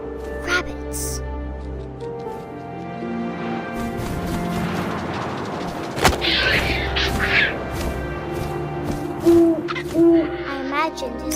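Owl hooting in the video game What Remains of Edith Finch, a few distinct hoots over wind and a low ambient game score, heard alongside narration.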